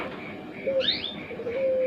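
A turtle dove (puter pelung) gives low, drawn-out coos, with a faint higher chirp between them over a quiet background.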